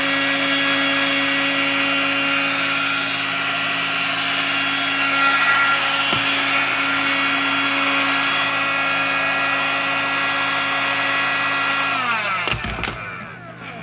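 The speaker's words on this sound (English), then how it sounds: "which is why I would recommend an actual heat gun instead of a hair dryer, because they work a little bit better." A heat gun warming the dust cap of a riding lawn mower gives a loud, steady blower whine with a constant tonal hum, running alone and unbroken before cutting off near the end.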